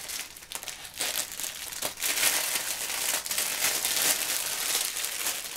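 Crinkly plastic packaging rustles and crackles up close, with snipping and tearing noises as scissors cut open a box holding a reborn baby doll; no one speaks.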